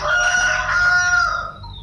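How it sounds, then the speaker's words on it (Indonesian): A rooster crows once, close and loud, a long strained call that fades out at the end. "Suara ayam itu bang, dia bukan"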